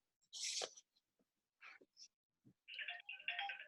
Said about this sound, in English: Okay, my phone over there is making noises.